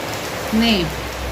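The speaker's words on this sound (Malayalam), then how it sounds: "രാവിലെ നല്ല മഴയാണ് കേട്ടോ" Steady, dense rain hisses throughout, with a brief tonal call rising and falling over it.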